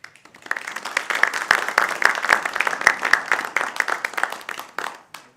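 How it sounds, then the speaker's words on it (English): Sustained applause from a sizeable lecture audience, dense clapping that builds quickly, holds steady for several seconds, then tapers off. "I never get tired of hearing people applaud when I walk"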